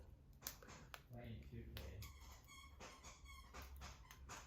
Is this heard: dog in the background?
yes